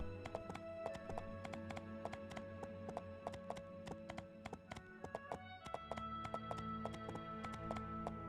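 In the PC game My Time at Portia, a ridden horse's hooves clip-clop in a quick, even rhythm, with sharp regular taps layered over the game's steady background music.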